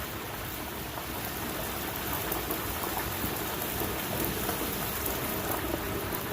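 Whole turkey being lowered into hot frying oil, a loud, steady, dense sizzle and roiling bubble, constant and close with no pauses or talk.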